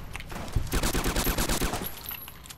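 Rapid automatic gunfire from a Fallout: New Vegas firefight, a dense burst of shots in quick rhythm lasting about a second and a half, loud and close, then tapering off.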